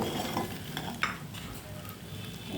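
Ramen with egg stirred in a hot pan, a steady soft sizzle of frying under close scraping and stirring strokes, with no talking.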